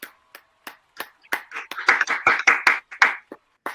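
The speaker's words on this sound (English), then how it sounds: "No, play the applause, Joe." Sparse claps quickly build into a short round of applause played as a podcast sound effect, starting with a few separate hand claps and swelling into denser clapping near the end, with no talk over it.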